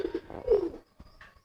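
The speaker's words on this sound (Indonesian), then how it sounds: "merpati si Kliwon" A homing pigeon coos close by in a soft, throaty burst, then gives a couple of brief quieter notes after a short pause, with no talking.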